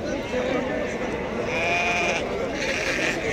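Sheep bleat repeatedly at the Tuesday livestock market in Azrou on a rainy day, loud close calls over a steady wash of crowd noise, with people talking nearby.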